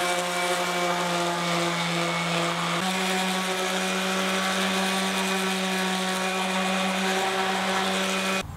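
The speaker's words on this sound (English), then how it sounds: "I'll give it a final sanding with the random orbit sander" A random orbit sander runs continuously on wood with a steady, high electric motor whine and a faint buzz, never pausing.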